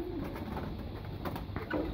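Pet pigeons in a home loft giving low, soft cooing calls, close and continuous against a faint background hum.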